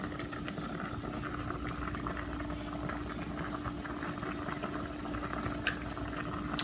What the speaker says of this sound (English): Once you see that your water is boiling like that, then you're gonna add your rice.